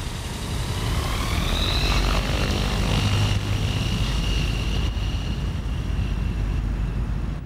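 Airship engines drone steadily in the open, a constant propeller hum with a rising whine early on, loud and continuous with no talk.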